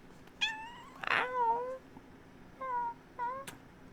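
A pet cat meows several times, clear and close in a quiet room, each call a short rising-falling cry with gaps between.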